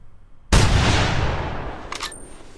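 A single loud rifle shot cracks in theHunter, fired at an alpine ibex in a mountain hunting game, with a sharp onset and a long rolling echo that fades over two seconds before a brief metallic click.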